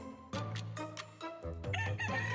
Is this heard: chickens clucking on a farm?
yes